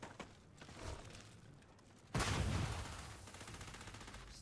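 Gunfire in the sci-fi video game Starfield starts with scattered distant shots, then breaks into a sudden loud sustained burst of rapid fire that slowly fades.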